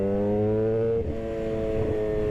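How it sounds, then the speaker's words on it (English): A motorcycle fitted with a Leo Vince GP exhaust revs loudly and close up. Its strong, buzzing engine note holds steady, dips briefly at about one second, then climbs back up with no voices over it. "This bike is freaking crazy loud."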